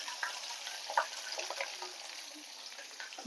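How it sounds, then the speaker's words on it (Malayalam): Soft, steady sizzling of onion and garlic frying in a pan, with faint scattered pops and light stirring nearby. "എന്നിട്ടിത് നന്നായിട്ടൊന്ന് വറുത്ത് കൊടുക്കാം"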